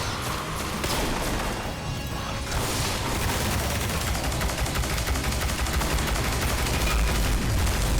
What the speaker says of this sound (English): only 8 shots is pretty terrible for a hand cannon